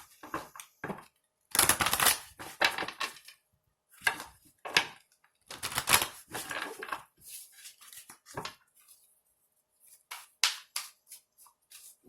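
Oracle cards being shuffled and pulled, heard as close, irregular bursts of papery riffling and soft slaps with brief silent gaps between them.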